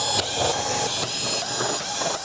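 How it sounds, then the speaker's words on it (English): Perimeter screws being removed from the plastic back cover of a TV, a loud, close whirring hiss from a powered driver running almost continuously with brief breaks, no talking. "Next, we'll remove the perimeter screws."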